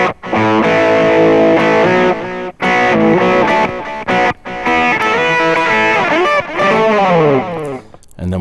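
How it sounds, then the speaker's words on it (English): Electric guitar playing the intro of a song, notes repeated by a delay effect for an echo-like trail, loud sustained phrases broken by a few short pauses. "But it's actually a delay."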